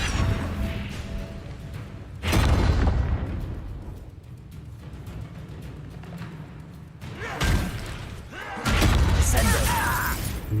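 A Confringo blasting spell detonating in Hogwarts Legacy gameplay: several heavy thudding blasts with shattering crackle, spaced irregularly, with a player talking in between.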